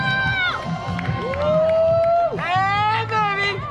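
Spectators at a running race finish line shouting and cheering the runners on, with loud close voices calling out and a general crowd hubbub behind them.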